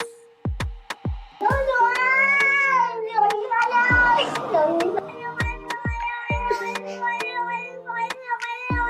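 Chatty cats meowing repeatedly, loud and close, with drawn-out meows and yowls that rise and fall, punctuated by sharp regular percussive beats.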